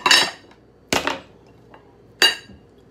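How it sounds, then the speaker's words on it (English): Utensils clink against a plate while avocado sticky rice is served at home: three sharp, close clinks spaced about a second apart, with quiet pauses between them. "Put in my plate."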